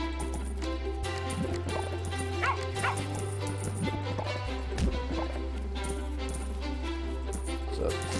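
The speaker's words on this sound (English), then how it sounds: "Is the guard dog laying down the law over there?" A guard dog in Terraria barks in short repeated yips over steady game music and background effects, fairly faint.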